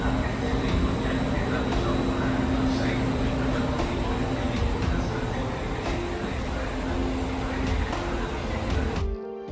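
Steady rumble and hiss inside a nearly empty passenger train near Trieste, Italy, with a constant broadband drone and faint rhythmic ticks throughout, ending in a sudden drop.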